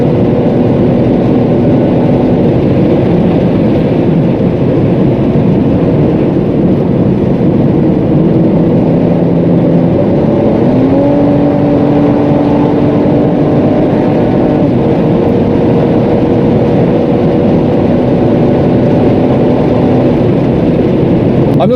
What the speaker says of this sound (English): It does pick up very nicely, I have to say. It's a nice engine.